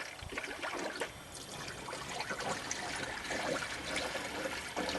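Coolant pouring through a funnel into a Chevy pickup's cooling system, a steady faint gurgle and trickle with small splashes, continuous and low throughout.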